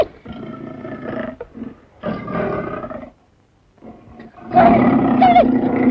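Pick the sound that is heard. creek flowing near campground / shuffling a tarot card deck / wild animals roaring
wild animals roaring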